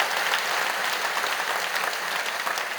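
A church congregation at a Sunday service claps warmly to welcome a pianist, a dense, even round of applause that carries on without a break and with no voices over it.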